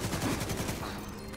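Rapid gunfire in a video game boss raid, a quick burst of loud shots hitting the boss's box, filling the short moment.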